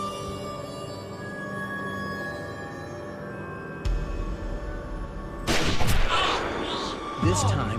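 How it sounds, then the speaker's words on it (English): A sniper's shot rings out from behind a house, a sudden sharp report followed by a louder crack and echoing boom in a dramatized reconstruction, with narration running over it. "An unknown shooter fires from the back of the house."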